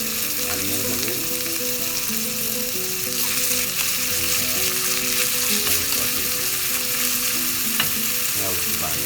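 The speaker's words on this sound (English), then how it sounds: "she's going to saute these onions" Onions sauté in a pan for a Punjabi-style chana dal, giving a continuous close sizzle with occasional stirring scrapes and clinks of a utensil, no one speaking.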